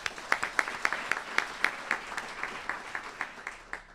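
Sparse applause at an internal medicine resident graduation ceremony, a small audience producing distinct, fairly steady claps that carry on evenly for a few seconds without voices.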